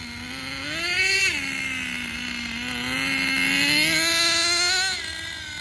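A Thunder Tiger Tomahawk nitro RC car with a two-speed transmission revs with a steady, buzzing engine whine that rises, then drops sharply as it shifts early, climbing again before easing off near the end.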